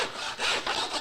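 A hand crosscut saw cuts a rough wooden board down to size, making a quick run of rasping back-and-forth strokes, close and fairly loud, with no talk.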